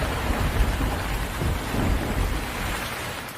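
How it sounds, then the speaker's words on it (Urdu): Heavy rain pours steadily while low thunder rumbles and rolls beneath it, a loud, dense storm with no voices. "ایک رات جب بادل زور سے گرج رہے تھے،"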